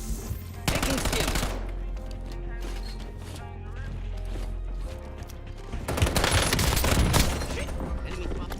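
Gunfire in a shooter video game, rapid automatic bursts with heavy booms that swell again near the end, under a voice that talks over the shooting.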